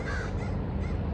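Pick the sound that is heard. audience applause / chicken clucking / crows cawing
crows cawing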